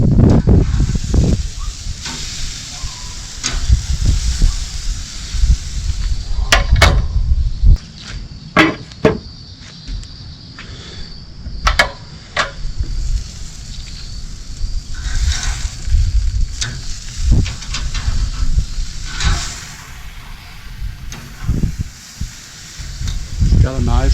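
Cheap steaks sear on a hot grill with a loud, continuous sizzle and hiss lasting throughout, broken by occasional sharp clicks and scrapes as the meat is turned and flipped.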